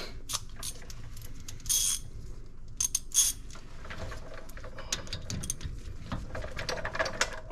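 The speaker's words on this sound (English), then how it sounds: "I have my 1/2 inch ratchet. Let's see if it's loose enough for the 3/8." A 1/2 inch ratchet works on the brakes of a 2008 Acura MDX, giving rapid close metallic clicking in short bursts with pauses between them in a quiet garage.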